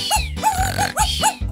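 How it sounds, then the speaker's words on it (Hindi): A toy robot dog gives loud, close, electronic barks, two pairs of yapping woofs with pitch sweeps, alone with no talking. "तुम्हारा कुत्ता बहुत ऊंचा भौंकता है।"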